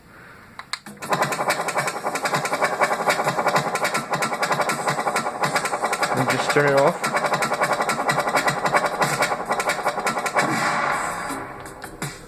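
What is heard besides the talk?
minigun turret firing in DOOM SnapMap, a video game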